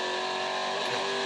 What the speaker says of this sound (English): Listen to the gear change.